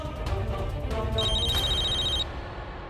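An electronic telephone rings with a steady trilling tone for about two seconds before cutting off, set against a constant low hum of dramatic background music.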